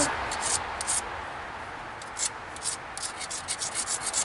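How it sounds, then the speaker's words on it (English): Edge of a flint-knapped dacite point ground against an abrasive, making a close, rasping scrape in repeated short strokes that speed up toward the end, with no talking. "Try and grind off everything that is weak."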